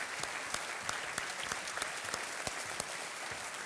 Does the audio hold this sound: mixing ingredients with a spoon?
no